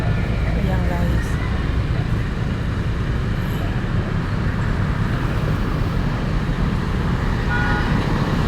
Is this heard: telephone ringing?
no